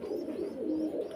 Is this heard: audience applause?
no